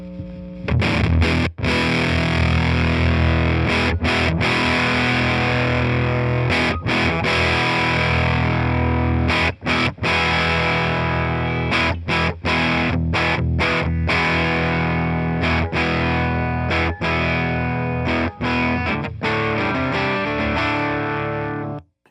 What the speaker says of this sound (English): so we're getting less signal into the fuzz pedal, which is bringing down the gain